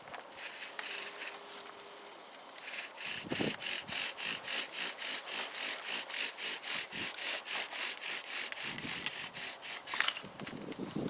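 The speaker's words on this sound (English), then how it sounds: "I think now's the time to sharpen up the spindle." A wooden spindle is sharpened or worked with fast, evenly repeated rasping strokes that carry a steady sawing rhythm, close and moderately loud, picking up after a quieter start and continuing without talk.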